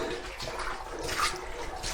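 Water of the Jordan River, one of Liverpool's lost rivers running underground, rushes steadily in a continuous broad wash, close and enveloping, with no voices.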